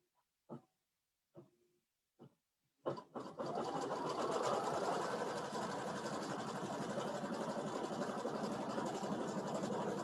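A Baby Lock embroidery machine stitches an octagon in a running stitch. A few soft clicks come first, then the needle hammers in a fast, steady, close rhythm that runs without a break.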